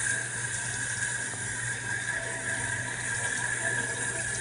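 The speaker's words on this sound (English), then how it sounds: "So now we're going to rinse the bleach off, and you want to rinse the bleach off downward." Steady stream of tap water rinsing bleach downward off a hair closure at a sink, a continuous even gush with no pauses, close by and moderately loud, with no voices.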